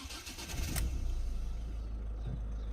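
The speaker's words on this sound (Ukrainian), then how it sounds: "Ось так, завівся двигун." A Ford Focus 1.6 diesel engine cranks briefly and catches, settling into a steady low diesel rumble close by.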